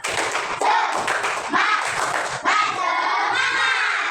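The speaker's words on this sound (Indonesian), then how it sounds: "Kita tepuk tangan dulu yuk. Tepuk semangat." A school class doing a rhythmic spirit clap together: groups of sharp hand claps and thumps in a patterned beat, with children's voices shouting along near the end.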